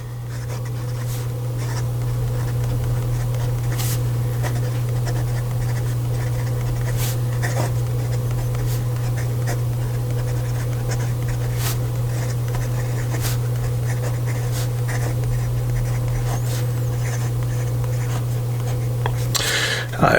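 A fountain pen with a number 6 Bock nib scratches steadily across paper, soft continuous strokes with occasional taps, heard close and alone over a constant low electrical hum.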